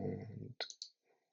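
A computer mouse clicks twice in quick succession, close and quiet, right after a stretch of talking that stops just before the clicks.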